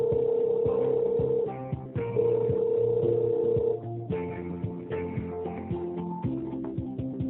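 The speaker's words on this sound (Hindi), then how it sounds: "Your line is connecting." Telephone line connecting tones on a call to the Delhi Police headquarters, a narrowband phone-line sequence of sustained beeps and shifting tones, close and steady with no talking.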